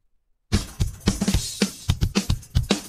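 An isolated drum track separated from a full mix by Splitter AI starts after a brief silence, with punchy kick and snare hits and cymbal accents in a steady groove, dry and up front.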